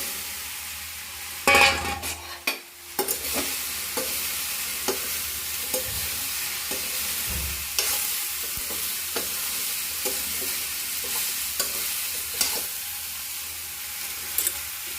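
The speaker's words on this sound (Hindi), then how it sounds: "मैं हल्दी तेल में ही डाल देती हूँ, थोड़ा सा ना हल्दी का कच्चापन वो दूर हो जाता है।" Turmeric sizzles in hot oil in a home kitchen while it is stirred. A steady frying hiss runs underneath, and a spoon scrapes and clinks against the pan several times.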